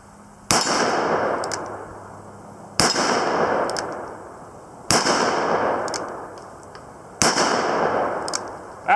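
Four loud, evenly spaced revolver shots at an outdoor range, a Smith & Wesson 629 or Taurus Model 44, each a sharp close blast followed by a long echoing decay.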